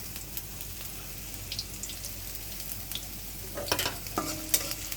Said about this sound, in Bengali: এখন আমরা পেঁয়াজটাকে ভেজে নিব ভালো করে